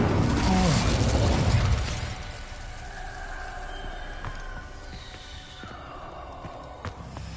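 Incendio fire spell in Hogwarts Legacy erupts with a loud whooshing burst at the start, then fades into a softer crackling and magical tonal shimmer with scattered small pops.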